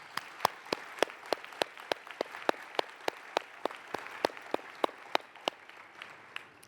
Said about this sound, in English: please join me in a round of applause to thank the intake team for all that they've done for those in need